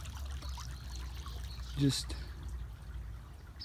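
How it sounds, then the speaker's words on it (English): Shallow creek water flowing along a wooded Georgia bank during spring morel hunting, a steady low trickle running continuously beneath a person's brief speech. "So I'm walking this creek,"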